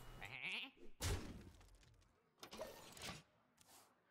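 Sheep bleating in the Hearthstone card game, a quiet nasal bleat followed by a few louder game effect bursts, with no talk over it.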